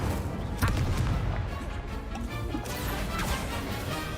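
An Incendio fire spell cast in a Hogwarts video game, a dense roaring burst with crackling whooshes and impact thuds, loud and continuous for several seconds.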